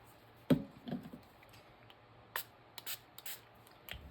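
Water misted from a spray bottle onto a mixed media Valentine craft: a few short, soft hissing spritzes separated by quiet gaps, close and fairly faint.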